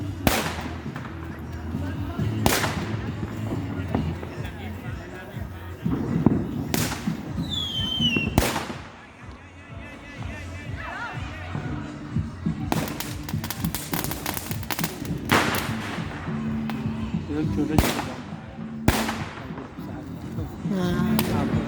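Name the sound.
matchbox firecrackers bursting on bonfire day in Europe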